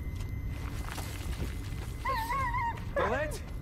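A dog whimpers and whines in a Blair Witch video game, with rising and falling high-pitched cries under a low rumbling ambience and faint footsteps.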